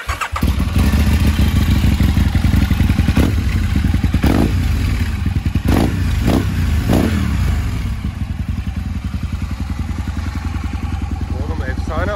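A motorcycle starts and revs loudly nearby with clattering engine noise and repeated throttle blips, then settles into a rough idle while people talk over it.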